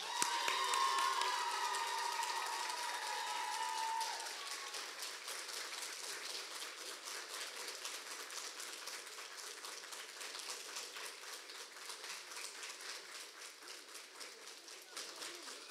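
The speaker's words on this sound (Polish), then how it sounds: "Oczywiście wielkie brawa" Audience applause at a children's song festival gala in Łasin, a sustained wash of clapping that is strongest at the start and settles into a softer, even patter, with a faint tone fading out early.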